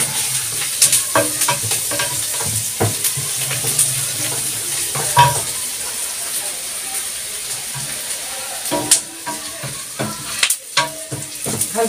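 Onion fries in a pan for a Moroccan khizou dish with a steady close sizzle broken by scraping stirs and clicks, and a voice talks intermittently over it.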